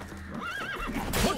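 A horse in The Witcher 3: Blood and Wine gives one drawn-out, wavering neigh up close, with hoof clip-clops and game ambience around it.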